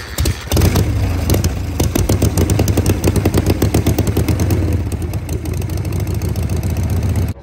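A kick-started Harley chopper engine catches almost at once and settles into a loud, close, lumpy idle, its uneven pulsing beat running steadily to the end before it cuts off.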